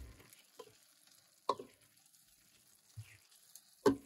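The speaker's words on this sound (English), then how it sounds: "I'm just going to give this all a stir here" A spoon stirring pasta with meat sauce inside a Ninja Speedi cooker: a few separate scraping, clinking strokes spaced a second or more apart, close and soft, with quiet gaps between them.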